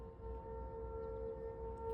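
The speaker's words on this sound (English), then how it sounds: "They are testing the tornado warning sirens" A tornado warning siren under routine test wails faintly in the distance as a steady sustained tone over low outdoor rumble, with no talk.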